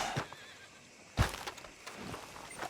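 A horse in Red Dead Redemption 2 gives a sharp whinny partway through, with soft hoof clip-clops and rustling around it and no talk.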